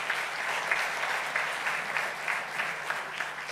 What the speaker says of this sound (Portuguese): também uma grande salva de palmas.